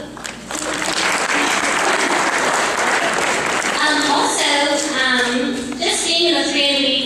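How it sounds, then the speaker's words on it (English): Audience applause at a school dance and cheer team event, a dense steady crackle of many hands clapping close up, with cheers and whoops rising over it toward the end. "Get a big clap."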